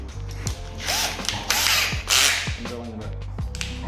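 A reverse drill backs out Phillips head screws from brake discs, giving a close, loud mechanical whir with repeated ratcheting clicks and bursts of spinning.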